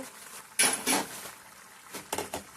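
The metal lid of a cooking pot of suran (elephant foot yam) bhaji in gravy is lifted with a close clattering clank, followed moments later by a second, lighter double rattle.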